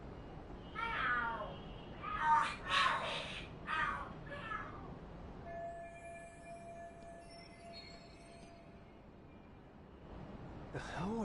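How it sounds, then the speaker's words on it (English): Cats yowl and meow in a fight inside a video game. Several drawn-out, wavering cries come in bursts over the first few seconds, a quieter stretch with faint tones follows, and another yowl comes at the end. "Are there cats fighting?"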